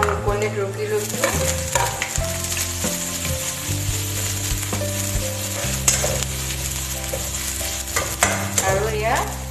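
Spices frying in a pan for Assamese-style kachori, sizzling steadily while being stirred, with repeated scraping stir strokes close up and no talking.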